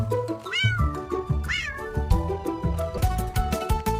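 A domestic cat meows twice, close and clear, each call a rising-then-falling wail, followed by a bouncy children's song melody playing underneath.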